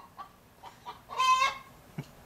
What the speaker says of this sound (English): that chicken has just been all day doing this